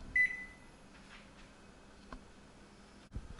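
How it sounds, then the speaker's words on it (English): A Samsung ME21M706BAS over-the-range microwave oven with glass touch bottom controls gives a short beep, then a quiet low running hum with a few soft clicks. "Very large microwave."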